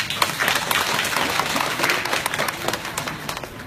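An audience at a Vietnamese Vu Lan celebration program claps for the event's sponsors, a dense, steady burst of applause from many hands that tapers slightly toward the end.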